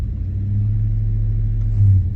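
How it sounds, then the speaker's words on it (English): A truck engine idles close by with a loud, steady low rumble, swelling slightly near the end, while being checked with a Hyper Tough HT300 code reader. "Hopefully you can hear the truck."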